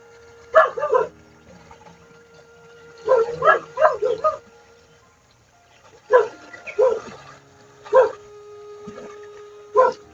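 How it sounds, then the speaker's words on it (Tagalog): Dogs bark in short bursts of several yips and woofs, separated by quiet pauses, fairly close and loud. "Kanina pa yung pinakahol ng aso mga ito."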